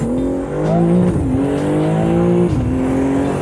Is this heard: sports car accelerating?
yes